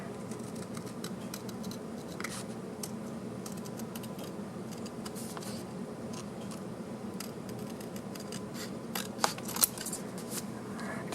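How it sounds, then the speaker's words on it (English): Scissors cutting a part out of a commercial model structure kit along a printed line, a quiet, continuous series of small snips and crisp clicks, a few sharper near the end, with no talking. "taking a pair of scissors, just cut that out along the bottom line"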